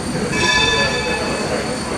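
An old steam locomotive at Steamtown in Scranton, Pennsylvania rumbles nearby with a steady metallic rolling drone and faint high squeals or whistle tones, fairly loud and continuous.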